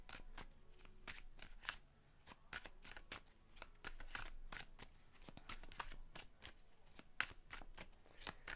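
Tarot cards are shuffled by hand in quick, crisp riffling bursts with short gaps, close and quiet on a work surface.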